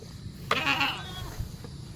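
A single short goat bleat, close and moderately loud, rising briefly over faint background noise before fading.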